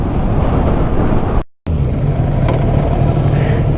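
A KTM Duke motorcycle on the move gives a loud, steady engine and road roar with wind rush, broken by one abrupt momentary dropout before the ride noise resumes.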